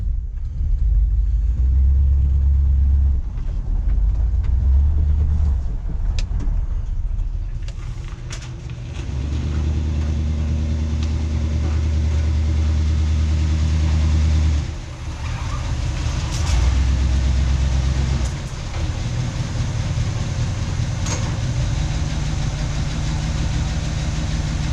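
A 1971 Chevy car pulls into a garage with a steady, loud low engine rumble close by that swells and dips slightly as it moves, with no talking.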